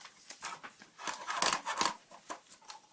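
Scissors roughly cutting a small character shape out of scrap printer paper, a series of quick close crisp snips in an uneven rhythm.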